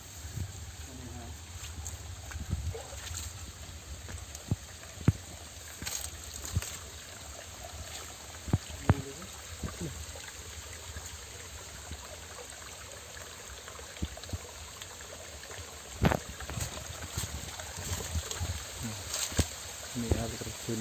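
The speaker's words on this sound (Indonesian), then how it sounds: "Ini air terjun Kuwung." Kuwung waterfall running low in the dry season, a steady broadband rush of falling water with wind, scattered clicks and knocks from people nearby.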